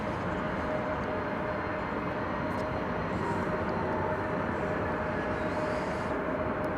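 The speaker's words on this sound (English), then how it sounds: "Arriving now from Silao in Mexico is Flight 2181, American Airlines." An American Airlines jet arriving at DFW airport, a broad, steady engine roar that stays loud and constant throughout without a break.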